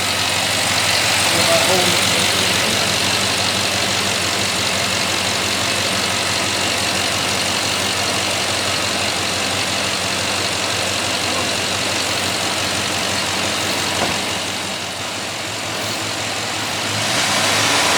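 A freshly replaced engine in a 2007 Chevy Tahoe held at a steady fast idle around 1500 RPM, producing a constant loud broadband drone and hum that barely changes, with people talking over it.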